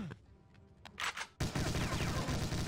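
Gunfire in the video game Doom, modded with Brutal Doom monsters, starts with a few isolated shots and then breaks into sustained rapid automatic fire that is loud and dense, filling the rest of the clip.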